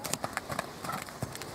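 A horse's hooves strike the ground in a quick, uneven clip-clop during a riding lesson, several soft thuds close by under a steady ambient hiss, with the instructor's voice mixed in.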